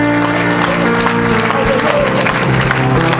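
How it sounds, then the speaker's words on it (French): A church congregation applauds and cheers in praise of the Lord, a loud dense wash of clapping and voices that holds steady throughout, close and full. "Quelqu'un acclame le Seigneur."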